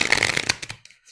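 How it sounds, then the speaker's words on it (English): Tarot deck being shuffled by hand: a dense, riffling flutter of card edges for about half a second, then a few softer taps and slides as the cards settle, close and clear with no talk. "when I have to shuffle like this because I want the cards to"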